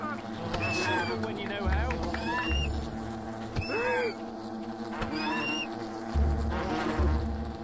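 Bees buzz in the video game Fable: The Lost Chapters, a steady insect drone layered with game sounds and music, with someone talking over it.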